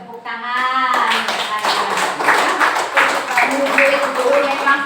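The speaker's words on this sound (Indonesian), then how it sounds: "Ya, tepuk tangan." Children in a classroom break into clapping after a lesson on Indonesia's Pancasila symbols, a dense, steady round of hand claps lasting several seconds, with a teacher's voice heard briefly at the start.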